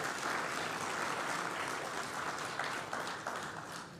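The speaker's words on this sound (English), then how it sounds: "please once again give the Honorable Minister Stuart Young a round of applause" A conference audience applauds Minister Stuart Young at a Caribbean regional water loss event, a steady wash of clapping from a large room that holds even for several seconds and tapers slightly at the end.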